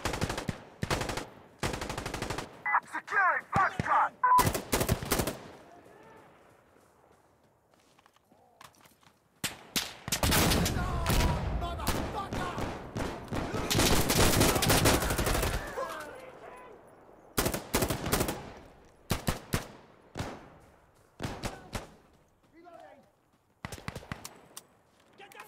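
Gunfire in the video game Insurgency: Sandstorm comes in sharp bursts and rapid volleys, loud and close, with players talking over and between the shots.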